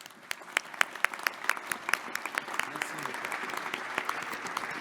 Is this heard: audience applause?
yes